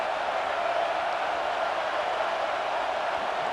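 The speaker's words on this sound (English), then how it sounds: "3rd down, and the crowd really getting into it." Stadium crowd in EA Sports College Football 26 on third down, a steady, loud roar of massed cheering that holds even throughout with no clear voices standing out.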